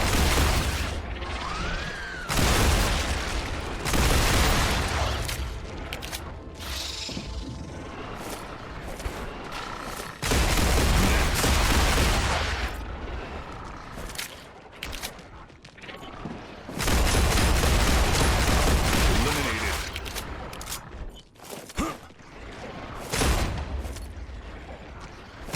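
Gunfire in the video game StarRupture: loud bursts of rapid shots and booming blasts come in long waves, separated by quieter mechanical clatter, with no speech over it.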